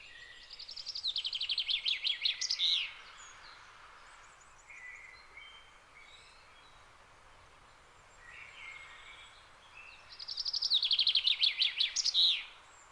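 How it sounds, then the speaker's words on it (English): A blackbird sings in the background outdoors in Monkstown, giving two bright warbling phrases several seconds apart, fairly faint and with no voices. "Hear the blackbird in the background."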